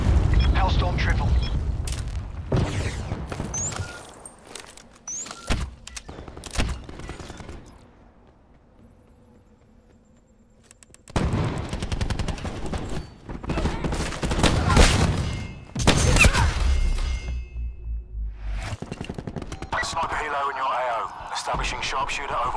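Missile blasts from a Hellstorm strike in Call of Duty: Black Ops 4 hardcore Kill Confirmed multiplayer, with loud booming explosions and gunfire bursts separated by a quiet stretch. Game voices talk over parts of it.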